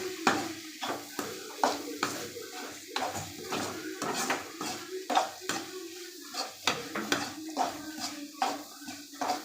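Metal spoon stirring mint and curry leaves in a cooking pan, repeated sharp scrapes and clinks at an uneven rhythm over a soft sizzle, close by, with someone talking now and then.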